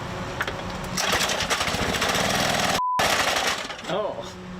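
Gas pressure washer engine cranked and roaring to life with loud rapid rattling and knocking close by, a short dropout, then rough uneven running and a person speaking over it.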